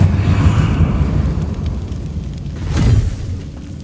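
A roaring, crackling burst of flame from the Incendio fire spell in Hogwarts Legacy, loud and sustained with a swelling whoosh near the end.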